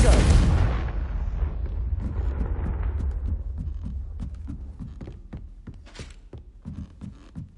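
A Confringo spell from the Hogwarts Legacy game detonates in a loud, deep blast that rumbles off over a few seconds, followed by a series of fainter rhythmic low thumps.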